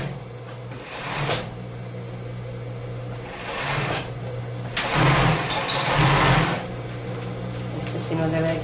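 A sewing machine stitches bikini swimsuit fabric in short whirring bursts over a steady low motor hum, running close by at moderate volume.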